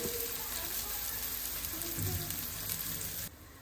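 Oil sizzles steadily in a pan as chicken pieces fry for a spicy Bengali chicken bhuna, a dense, even hiss with some soft stirring scrapes, cutting off abruptly near the end.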